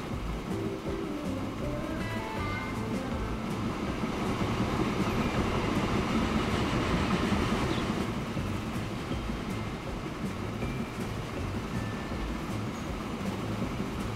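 Freight trains hauling stone in the Transport Fever video game, heard as a continuous, dense rumble of rolling wagons that is steady and moderately loud with no talk.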